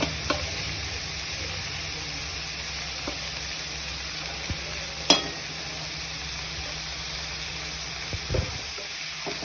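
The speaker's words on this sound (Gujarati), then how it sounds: "થોડીક વાર હલાવીને ત્રણ ચમચી ચણાનો લોટ નાખીશું" Chickpeas with gram flour sizzle softly in a hot pan while being stirred, a low steady frying hiss with an occasional scrape or tap of the spoon, quiet and close.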